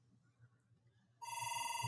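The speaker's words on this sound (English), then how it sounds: "Oh, phone call." A telephone bell starts ringing abruptly partway through, loud and steady, after a stretch of faint low room hum.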